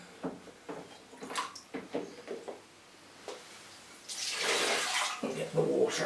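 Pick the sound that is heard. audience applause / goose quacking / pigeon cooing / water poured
water poured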